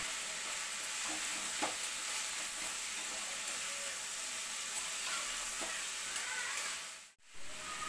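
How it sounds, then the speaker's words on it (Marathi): Diced potato, peas and carrot with soya chunks sauté in a pan, giving a steady broadband sizzle with a few light stirring clicks throughout, then a brief dip to near silence near the end. "भाज्या चांगल्या परतल्या की भाताला चांगली टेस्ट येते।"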